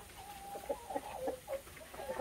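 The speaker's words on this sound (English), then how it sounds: "Brahma Chickens." Brahma chickens in a farm coop cubicle give a string of short, soft clucks at an uneven rhythm, fairly close and quiet, with no voices.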